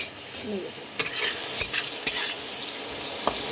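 Onion, garlic, tomato and green chilli sizzle in oil in a wok, a steady close frying hiss broken by several sharp scrapes and clinks of a spatula stirring against the metal.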